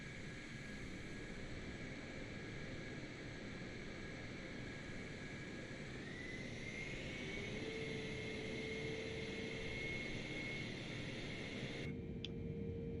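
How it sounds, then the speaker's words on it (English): A cargo airplane taxis at Dover Air Force Base: a steady, loud turbine whine and broad rushing roar hold throughout, the pitch shifting upward partway through, with no voices. "National Cargo is taxiing to runway 32 at Dover Air Force Base"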